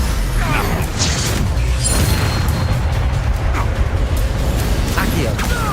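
A Confringo fire spell goes off in Hogwarts Legacy amid a dense, continuous wash of booming, crackling combat noise, with brief bursts at intervals and voices mixed in.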